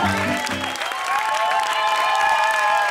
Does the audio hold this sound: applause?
yes